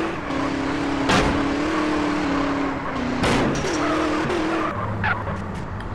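A car in GTA San Andreas drives with a steady engine drone, broken by two sharp tyre skids and a later squeal, all close and fairly loud.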